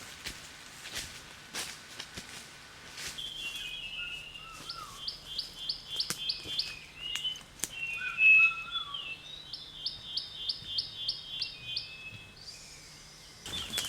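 An olive flycatcher in Papua New Guinea gives repeated high, rapid trilling phrases in bursts, fairly clear against quiet forest ambience with a few soft knocks.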